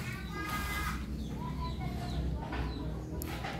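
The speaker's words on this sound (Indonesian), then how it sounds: "Ada ayam." Chickens clucking around an old, long-unoccupied village house, short harmonic calls and clucks repeating through the clip over a steady low background hum, moderately close.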